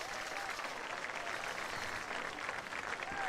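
Football fans at a high school varsity game in Fayetteville cheer for a player as a broad, steady crowd roar with applause, sustained throughout and fairly distant.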